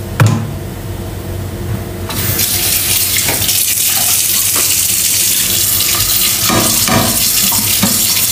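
A kitchen tap runs into a sink while a plate is washed, water rushing and splashing steadily under occasional clinks and scrubbing sounds, loud and close.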